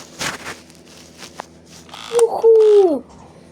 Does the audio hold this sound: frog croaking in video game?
yes